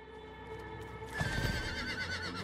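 A horse in the video game Diablo 4 whinnies loudly over a steady musical background, the neigh rising and trembling for about a second before fading back into the music.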